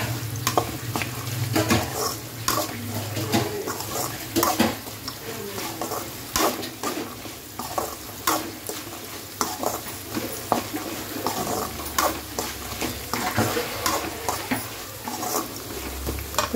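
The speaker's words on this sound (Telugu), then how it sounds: "క్యాష్యూ ఊరికినే ఫ్రై అయిపోద్ది అనమాట" Cashews fry in oil in a pan for lemon rice, a steady sizzle under repeated scrapes and clinks as they are stirred, close and continuous.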